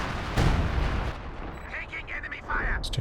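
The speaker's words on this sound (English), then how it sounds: "Couple little hits here and there from the howitzers." Howitzer artillery fire booms out in Company of Heroes 2, with one heavy blast and then rumbling impacts, set under a voice calling the game.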